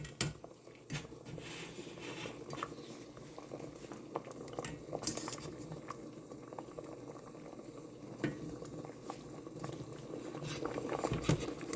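A pot of salted water at a steady rolling boil with a couple dozen oysters cooking in it, giving a continuous close bubbling patter with occasional soft clinks and stirring knocks and no voices.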